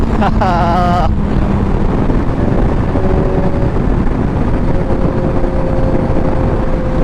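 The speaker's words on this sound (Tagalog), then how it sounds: "Ang lakas ng hangin." Strong wind roars steadily against the microphone during a ride through Batangas, Philippines, a loud continuous rumble with a brief voice at the start.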